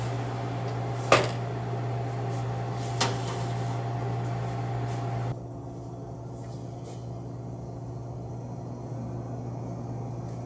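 An oven runs with a steady hum, then two sharp clicks from its door or handle ring out before the hum cuts off, leaving a quieter room as a cake is taken out.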